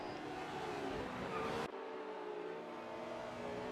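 Racing engines in a sim racing game, a 1974 Porsche 911 chasing a 1968 Porsche 908 at Kyalami, roar at high revs before cutting abruptly to a fainter, distant drone.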